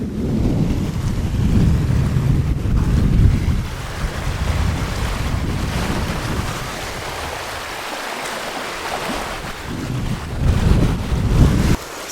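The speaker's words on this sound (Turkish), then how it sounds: "inanılmaz rüzgarlı ve akıntı da var" Strong wind buffeting the microphone with a deep, gusty rumble, surf washing in the background, loud and continuous, at Bördübet beach near Marmaris.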